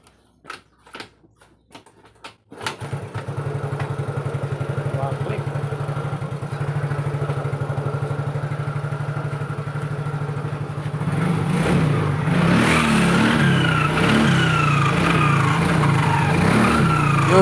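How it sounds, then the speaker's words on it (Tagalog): A few kick-start thumps, then a motorcycle engine starts and idles steadily, later revving higher with a whistling whine from inside the pulley; someone talks over the running engine. "mapapansin nyo naman at maririnig nyo naman yung ingay ng sumisipol sa loob ng pulley"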